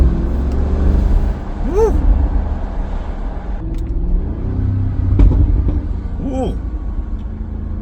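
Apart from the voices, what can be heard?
Tuned Audi SQ7 engine revving and downshifting in dynamic mode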